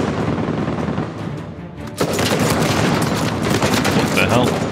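An unfamiliar gun in Uncharted 4 fires in heavy sustained bursts that sound like a machine gun, with loud rapid shots and booming impacts that grow denser about halfway through.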